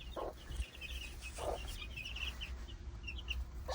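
A hen gives a few short, soft clucks spaced a second or so apart, with faint high peeping from chicks in the background.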